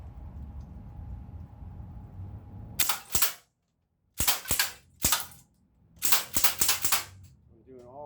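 A Sig Sauer MCX Gen 2 airgun fires from the hip in sharp, loud snapping shots, one pair, then single cracks and a quick burst of three or four, separated by quiet pauses over faint background hum.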